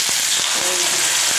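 Pitha batter crackling and sizzling in a hot pan gives a dense, loud hiss throughout, with a few soft taps as the batter is poured.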